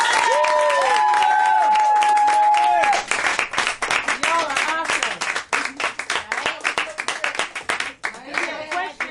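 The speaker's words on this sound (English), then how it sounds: "Give a round of applause." A graduation audience breaks into dense, sustained clapping with some cheering after a speaker's voice. The applause stays loud and close, then thins into scattered claps as talk resumes.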